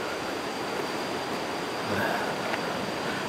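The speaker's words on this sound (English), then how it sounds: "Here's one of the waterfalls over there" A waterfall in a national park near Chiang Mai, Thailand, heard from a distance as a steady, even rushing hiss of falling water with no voices.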